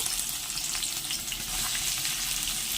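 Chopped onions sizzle and crackle in hot ghee, a loud, continuous frying hiss with busy fine popping that stays steady from start to finish and is heard on its own.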